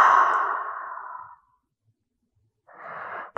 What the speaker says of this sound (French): et on expire.